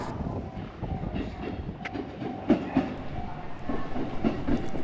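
A train on the Keiyo Line bound for Tokyo pulls into a station platform, its wheels clattering and rumbling close by, with faint squeals over a steady mechanical drone.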